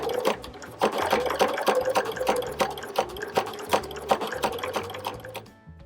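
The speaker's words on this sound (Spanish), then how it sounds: "Para acolchar comenzamos siempre en el centro de la pieza y voy a utilizar un largo de puntada de" Sewing machine quilting fabric from the centre of the piece outward at a 3.5 mm stitch length while making a transparent zippered organizer; rapid, steady stitching heard close up with no talk, easing off at the end.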